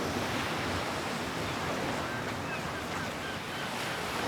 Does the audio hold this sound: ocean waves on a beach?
yes